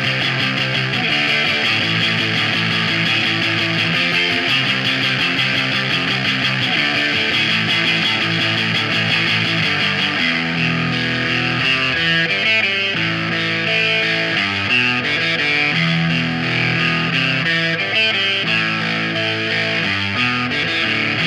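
Heavily distorted electric guitar plays continuously, thick and saturated with a washy reverb tail, loud and steady throughout.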